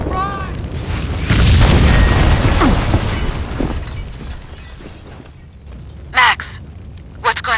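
A building blows up in a Max Payne cutscene, with a loud rumbling blast and debris crashing that hold for a few seconds before fading, followed by a couple of sharp bursts near the end.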